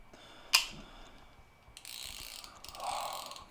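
A Shimano Curado BFS baitcasting fishing reel with a Finesse Tune brake system clicks and ratchets up close, with a sharp click followed by two stretches of buzzing, whirring drag-like mechanism noise, with no talking.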